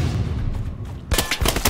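A quick rattle of rifle fire in the Hell Let Loose battlefield game, several loud sharp cracks close together breaking in after a moment of low background rumble.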